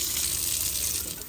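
Tap water runs steadily into a cooking pot to rinse it, a close, continuous splashing rush with no one speaking.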